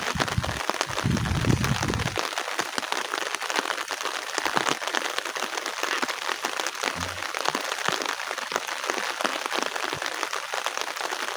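Heavy rain pouring down over rural West Java countryside near banana and guava gardens and rice fields, a dense, even wash of close drumming drops across the whole stretch, with a brief low thump early on.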